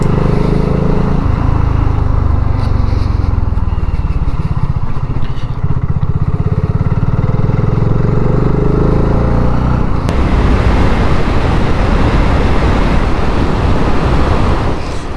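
A motorcycle rides along a country lane toward a village at sunset, its engine droning continuously and loudly up close for the whole stretch, with strong wind rush and an abrupt change in road roar partway through.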